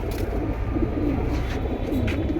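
Pigeons coo softly in a stall or loft, a fancier's collection of Lal Patri pigeons, with low repeated coos over a steady murmur of other birds and background noise.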